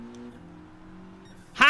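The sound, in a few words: Mitsubishi Group 4 race car engine in Gran Turismo 7 video game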